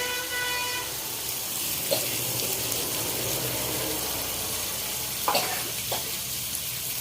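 Black and white mustard seeds sizzle in hot oil in a pan with prawns for a sour prawn dish, a steady close frying hiss with a few small clinks and stirring sounds.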